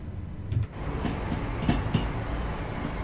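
Class 387 Gatwick Express electric train running out of London Victoria in Train Sim World 3, a steady low rumble of the moving train with a few faint clicks and knocks over the wheels.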